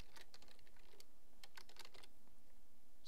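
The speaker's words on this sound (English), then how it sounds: "Now type in JuiceMod." Keys clatter on a computer keyboard in short bursts of quick taps, close but quiet, with a brief pause near the end.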